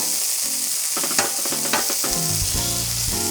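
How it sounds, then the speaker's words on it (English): A brioche bun toasting in oil and butter on a Blackstone griddle beside frying onions, with a loud, constant sizzling hiss close up and a few brief scraping accents, while music plays underneath. "I have one brioche bun. Just going to throw it down over here. Get some of that oil in here and butter."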